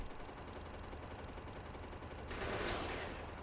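Turrets in Factorio firing steadily at biters, a faint, continuous rattle of rapid automatic shots with a hissing swell near the end.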